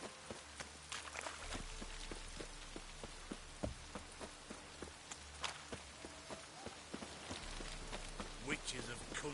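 Steady game rain patters across a surface throughout, with scattered footstep-like thuds and clatter, broadband hiss holding even under faint intermittent voices.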